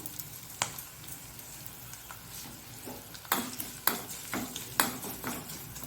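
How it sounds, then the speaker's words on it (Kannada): Garlic frying in a pan until brown for a Mangalorean veg sukka: a soft, continuous sizzle with repeated scraping stirs and light clinks of a spoon on the pan, close up and unhurried. "ಸ್ವಲ್ಪ ಬೆಳ್ಳುಳ್ಳಿ ಬ್ರೌನ್ ಕಲರಿಗೆ ಬರಬೇಕು, ಅಷ್ಟು ತನಕ ಹುರ್ಕೊಳ್ಳೋಣ"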